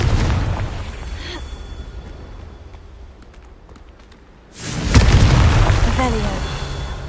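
A Confringo spell explosion in Hogwarts Legacy, a loud boom that bursts in suddenly after quieter game ambience and rolls on with rumbling debris, with spoken voices in the background.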